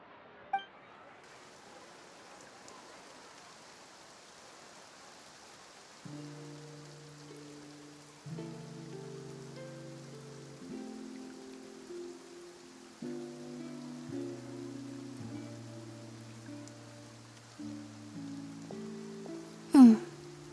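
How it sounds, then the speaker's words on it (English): Rain in the Genshin Impact game, in Fontaine: a soft, steady hiss of falling rain with gentle background music notes over it and a sharp clink near the end. "Looks like rain."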